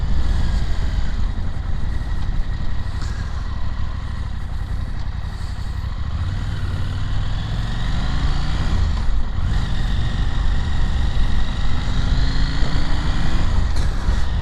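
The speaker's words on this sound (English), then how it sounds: "Let's go and try it in normal everyday riding conditions around the city." A 2021 KTM 890 Adventure motorcycle rides through city traffic, its engine droning steadily and rising and falling in pitch as it accelerates and shifts, with wind and road noise underneath throughout.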